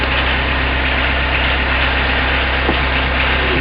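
A diesel-swapped Suzuki Samurai engine idles cold, giving a loud, steady, low rumble that holds without change throughout.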